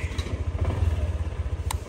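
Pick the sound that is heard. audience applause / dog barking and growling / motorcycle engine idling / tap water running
motorcycle engine idling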